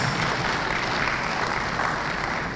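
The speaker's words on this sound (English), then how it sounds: "can we still encourage her with a round of applause?" A hall audience at a South East venture capital programme event in Enugu claps steadily for someone speaker, a dense, even round of applause that holds at full strength throughout without pause.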